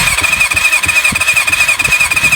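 A Kawasaki ZL600 Eliminator motorcycle engine runs close with the throttle held wide open, giving a loud, steady, pulsing drone with a thin high squeal over it.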